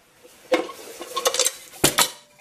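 Metal pots and pans from a Swedish M40/M44 military mess kit clink and clatter together in a few quick, close, bright knocks with no talking.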